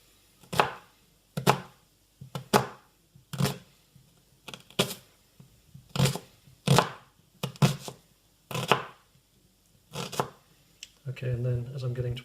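Knife slicing an onion into half rings for onion soup, a steady series of sharp chops on a board, close and loud, with a voice speaking near the end.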